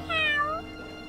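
A cartoon kitten gives a single short, bright meow in reply, clear and alone over a faint background hum.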